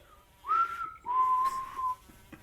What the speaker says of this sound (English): If it's clear to come up, I'll give a little whistle.